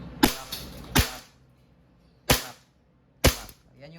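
Four sharp, close cracks from a WE 2011 Hi Capa T-Rex gas airsoft pistol fired semi-auto, spaced unevenly with short quiet gaps, each shot followed by a faint echo.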